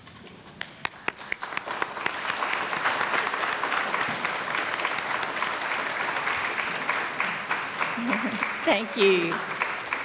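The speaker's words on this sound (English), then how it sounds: "give those people that help you get here a round of applause" A high school graduation audience gives a long round of applause that swells after a few scattered early claps, holds full and even, and a voice speaks briefly over it near the end.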